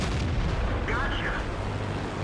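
A tank cannon fires in World of Tanks, a deep booming blast with rumbling low end heard up close in the game, followed by a brief metallic ringing and game sound under it.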